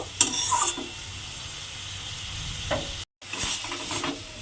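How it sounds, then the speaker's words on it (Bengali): Close-up stirring and scraping in a pan of sizzling red amaranth greens with fried eggplant, with a steady crackle underneath and a brief moment of silence near the end. "ভাজা বেগুনটা দিয়ে এবারে খুব ভালোভাবে মিশিয়ে নিতে হবে"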